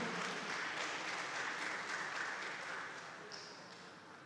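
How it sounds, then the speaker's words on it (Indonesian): Audience applause for a minister at the opening of a green tourism international seminar and entrepreneurship expo, a steady wash of many hands clapping at moderate distance, slowly fading toward the end. "Tepuk tangan yang sangat meriah untuk Bapak Menteri."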